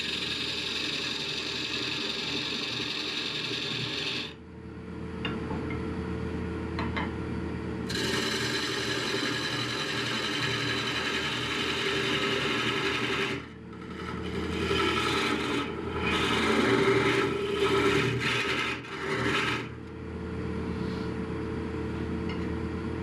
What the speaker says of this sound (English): I believe it's time to remove it from the lathe, cut this off back here